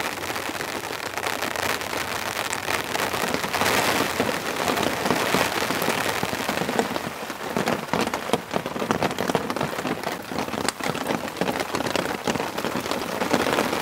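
Steady rain drums on a tent at a wilderness campsite, a dense, constant patter of drops close overhead with occasional sharper taps, filling the whole stretch without any voices.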